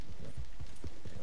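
Horse hooves clip-clop in Red Dead Redemption 2, a quick steady run of muffled thuds close by under a low background hum.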